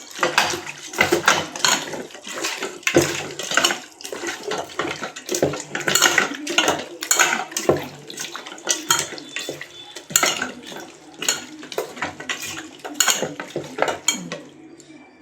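Country chicken being tossed and stirred with oil and turmeric in a metal pot, with repeated close scraping, clanking and wet squelching in an uneven rhythm. No voices are heard.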